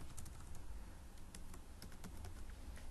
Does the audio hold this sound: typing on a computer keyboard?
yes